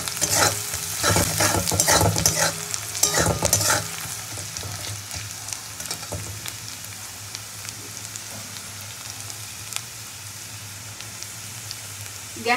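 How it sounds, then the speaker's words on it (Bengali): Onion sizzles and fries in a pan while being stirred, for a Bengali potol kosha (pointed gourd curry), with a burst of loud scraping stirs early on, then a steady softer sizzle alone. "পেঁয়াজটা মোটামুটি ভাজা হয়ে গেছে"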